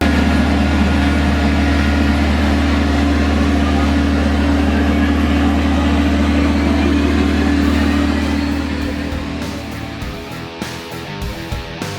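An LAFD helicopter engine starting up, a loud, steady turbine whine and drone that holds constant for about eight seconds before tapering off as the pitch shifts.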